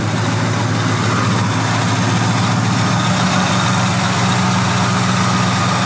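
Loud, close idle of a 2002 Ford F-150 Lightning's supercharged 5.4 V8, running lean, with a steady low rumble and a slight uneven loping pulse in its rhythm, continuous throughout.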